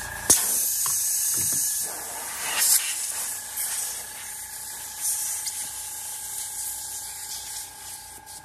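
Compressed air hisses steadily from a Creos Mr. Hobby PS 771 airbrush gun with a 0.18mm nozzle. The hiss is close and continuous, with faint tonal whines and a few brief clicks and knocks.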